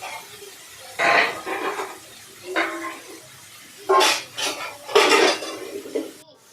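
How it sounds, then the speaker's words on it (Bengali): Boiled water lily stems stirred in hot oil in a wok, a spatula scraping and clanking against the metal pan in several separate bursts with quiet gaps between. "সিদ্ধ করে কড়াইতে তেল দিয়ে তারপর শাপলাগুলো দিলাম তার মধ্যে।"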